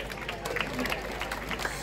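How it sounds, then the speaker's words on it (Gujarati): Audience applause at a teachers' award ceremony in Gujarat, as an honoree from Dahod district accepts his award; steady, moderately loud clapping from a crowd fills the hall throughout. "આપણે તાળીઓથી વધાવીએ"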